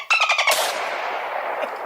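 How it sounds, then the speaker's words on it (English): A single sharp gunshot sound effect cracks out loud and close after a short burst of rapid tonal clicks, then a long noisy tail fades slowly into the background. "Bang. Bullet through the head."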